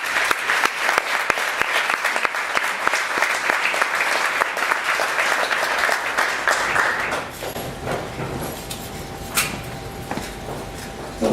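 An audience at an education conference claps to welcome a speaker, a loud, sustained patter of many hands that thins out after about seven seconds into scattered claps and room noise.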